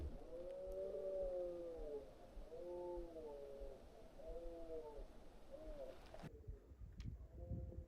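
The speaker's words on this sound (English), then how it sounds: "I can hear the deer rut down in the glen below" Deer rutting calls rise from a glen below the Scottish mountains Aonach Beag and Aonach Mòr, a series of distant, drawn-out moaning bellows repeating over faint wind, ending in a close rumbling bump.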